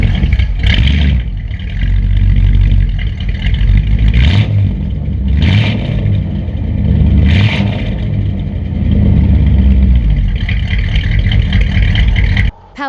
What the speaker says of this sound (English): This sport coupe's got a rebuilt 283 turbo fire V8.